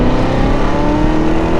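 A Corvette Z06 fitted with a new Armytrix exhaust revs loudly and continuously, the engine note climbing steadily while the car drives on the street, with no talk over it.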